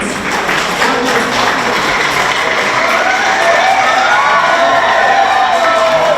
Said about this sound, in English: another round of applause for Miss Priscilla Hunt